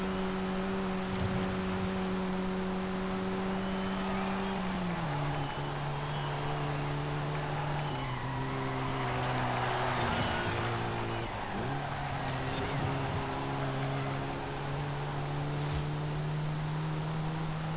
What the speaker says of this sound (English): I'll let you listen to the engine though for a little while